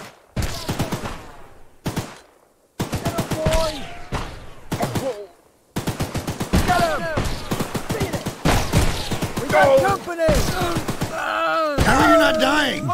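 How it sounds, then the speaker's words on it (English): Gunfire in the Choo-Choo Charles horror game comes in choppy bursts of loud close shots, broken by short silences, with groaning creature wails and excited voices talking over much of it. "I'm gonna shoot you!"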